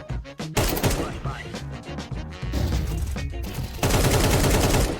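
Counter-Strike 2 gunfire rattles out in repeated loud automatic bursts with brief gaps between them, dense and sustained through the stretch, as a player shoots at a wall.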